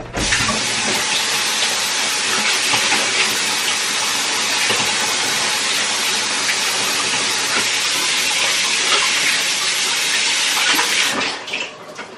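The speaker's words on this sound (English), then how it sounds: "I want to wash my hands." Tap water runs in a home kitchen while hands are washed, a loud, close, steady rush lasting about eleven seconds before it tapers off.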